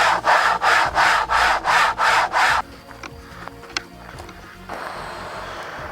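A planer blade is rubbed back and forth across a 600 grit diamond plate with WD-40, seven even rasping strokes in a steady rhythm, close and loud, then faint handling noises.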